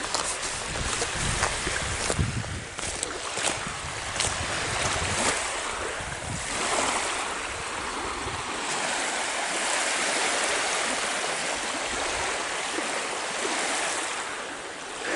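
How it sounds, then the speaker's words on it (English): Waves lap and splash on an open river by the shore, a steady watery wash under gusty wind noise, fairly loud and continuous with no talking. "Yeah, being up on the open river, you actually get waves."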